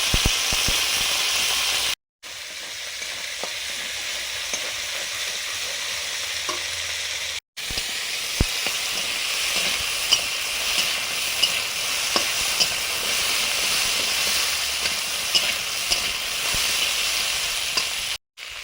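Bitter gourd sizzles in hot oil in a pan with panch phoron, a dense continuous fry with occasional stirring clicks and pops, cut by two brief silent gaps.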